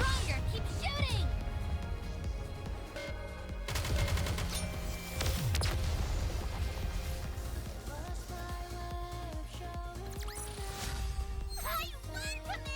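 Gunfire in the mobile shooter Goddess of Victory: Nikke, with sustained automatic bursts and blasts under frequent character voice lines and game music.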